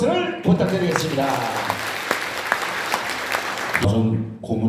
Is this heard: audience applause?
yes